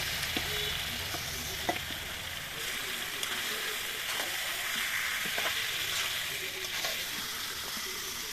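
Marinated meat and garam masala fry in oil for kacchi biryani, giving a continuous dense sizzle with occasional soft stirring scrapes, close and even throughout.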